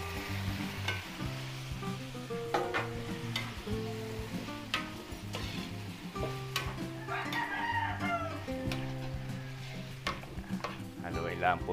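Pork afritada stirred in a pan during home cooking for a graduation feast, with steady sizzling and scraping under a bed of background music, occasional clinks of the utensil against the pan throughout.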